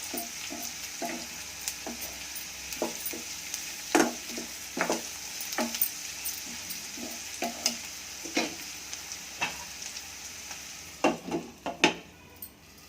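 Onions frying in a pan for lemon rice make a soft continuous sizzle, with a spoon clacking and scraping against the pan at irregular intervals, growing busier toward the end.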